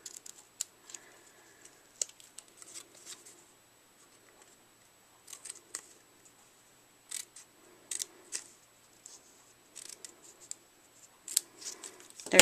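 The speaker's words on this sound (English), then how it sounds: "I'm going to fishtail the ends, only this time I'm only cutting in about 1/4 inch" Scissors snipping fishtail ends into a small paper piece for a holiday craft, a series of sharp, close cuts in irregular clusters separated by quiet gaps.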